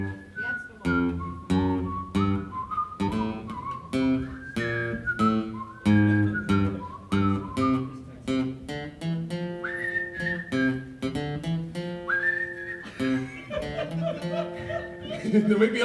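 A person whistles a tune in clear, separate notes at a steady rhythm, close up, with some laughing and voices mixed in.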